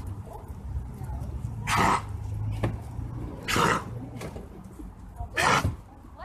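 A pit bull with a slight cold snorts out three sharp sneezes, evenly spaced, over low background noise in a live shelter adoption segment.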